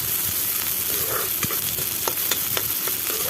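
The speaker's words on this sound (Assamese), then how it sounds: "আৰু পেষ্টখিনি দিয়াৰ পিছত অকণমান সময় মই ভাজি ল'ম যেতিয়ালৈকে এইখিনি ধুনীয়াকৈ ভজা নহয়" Spice paste sizzles and fries in a pan for an Assamese fish curry. Steady hissing runs throughout, with a few sharp scrapes and clinks as it is stirred, close and alone with no voices.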